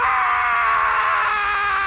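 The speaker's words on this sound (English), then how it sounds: "Did you just hear Jeffy scream?" A boy puppet character lets out a long, high, sustained scream that stays loud and steady from start to finish, with no other voices over it.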